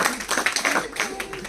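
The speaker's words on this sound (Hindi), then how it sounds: "इन गंभीरता के लिए ताली बजा दो" Brief burst of hand clapping from a small group at a direct-selling training session, quick irregular claps over room noise.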